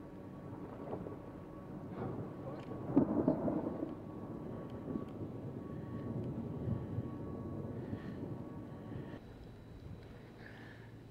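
Deep thunder rumbles in the distance, swelling briefly before settling into a long low roll under steady wind and rain noise.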